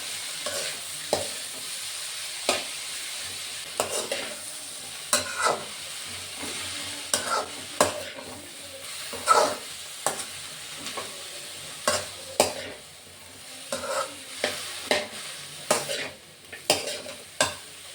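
Food frying and sizzling in a pan while being stirred, with steady crackle and repeated sharp scrapes and clinks of the utensil against the pan, close and clear with no talking.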